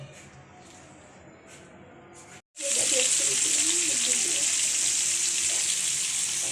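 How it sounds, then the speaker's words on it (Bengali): Prawns frying in a pan: after a quieter stretch and a brief gap, a loud, steady, close sizzle starts and continues to the end without letting up. "চিংড়ি মাছ ভাজা হচ্ছে"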